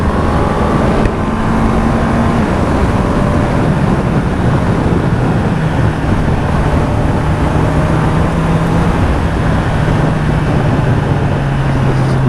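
A Honda CBR650R four-cylinder motorcycle engine drones steadily while riding, its pitch shifting gradually, with heavy rushing wind noise throughout.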